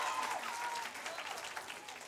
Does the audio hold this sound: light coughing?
no